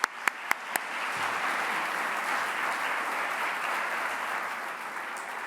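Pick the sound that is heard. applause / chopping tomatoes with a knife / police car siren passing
applause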